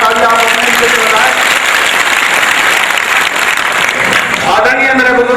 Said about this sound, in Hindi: एक बार जोरदार तालियां आप अपने लिए बजाएं।